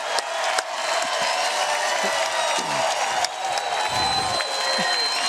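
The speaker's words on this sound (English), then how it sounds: "wow, is this crowd excited" An excited crowd at a pickleball match at the U.S. Open, loud sustained cheering and applause with whoops, a dense near roar that carries on without a break while faint voices talk beneath it.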